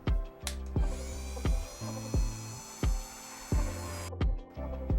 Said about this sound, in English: Now we're gonna use the Dremel and drill some holes through the ends of each.